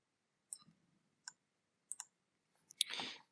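A few sharp, quiet computer mouse clicks come spaced apart in a silent room, followed by a short soft rustle at the end.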